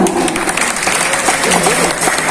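Brief burst of dense audience applause at an Indonesian national transport event, loud and continuous throughout the short moment, with a faint voice underneath.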